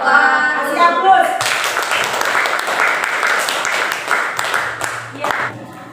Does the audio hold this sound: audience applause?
yes